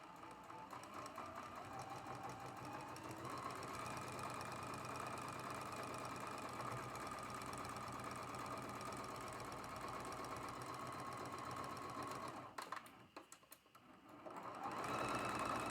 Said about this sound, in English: we're going to sew that with a 1/4 inch seam allowance